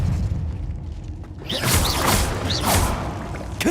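Spell-casting effects from a wizarding video game, Hogwarts Legacy, including the Expelliarmus disarming spell: a swelling magical whoosh with rising chirping tones and mechanical clunks, ending in a sharp impact.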